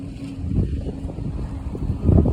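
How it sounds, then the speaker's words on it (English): Gusty outdoor wind buffeting the microphone, a steady low rumble that swells louder near the end, beside a small yellow-blossomed tree on a building site. "It's a little bit difficult when it's so windy."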